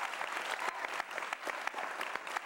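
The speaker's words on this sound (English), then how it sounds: "You can applaud." Applause from a live concert audience at a 2009 show, a steady wash of clapping heard from some distance at moderate level, with a faint crowd murmur beneath it.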